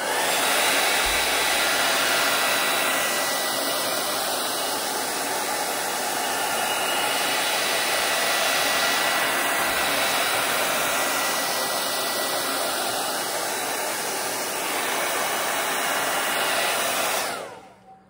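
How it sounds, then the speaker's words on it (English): A hair dryer blows steadily on wet paint, a loud, constant close-up whoosh of air that holds unbroken for about seventeen seconds before switching off at the end. "Let's give it a quick blow dry because now we're going to use our paint marker."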